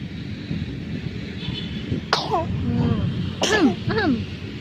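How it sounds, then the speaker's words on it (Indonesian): Two or three sharp sneezes from people sitting in bright morning sun, close and sudden, standing out over quiet outdoor background murmur. "Kita langsung bersin-bersin karena matahari."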